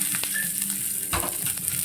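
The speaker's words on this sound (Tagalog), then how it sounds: "magsasatay lang po ako ng bawang at sibuyas" Garlic and onion sautéing in a pan: a steady soft sizzle with a couple of stirring scrapes over about two seconds, moderately loud, no voices.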